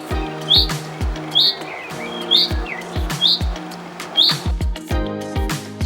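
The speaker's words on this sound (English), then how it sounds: "This little bird is known as the chaffinch." A chaffinch sings in the wild, a run of bright, high chirps repeated in a regular rhythm, close and clear, with soft low knocks and other faint bird notes underneath.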